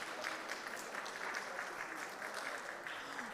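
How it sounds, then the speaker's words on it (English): An audience at a large government summit applauds itself, a soft, distant, even wash of clapping that carries on without a break. "Please applaud yourselves."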